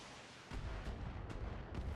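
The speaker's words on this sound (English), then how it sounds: "firing off some LRMs, or actually those were SRMs, weren't they?" Volley of SRM missiles launching from a mech in the game BattleTech, a faint burst of whooshing rocket fire that kicks in abruptly and rumbles on with several quick, rough pulses close together.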